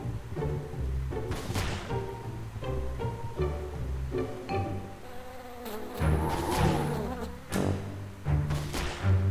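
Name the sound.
buzzing bee in the video game Wallace and Gromit's Grand Adventures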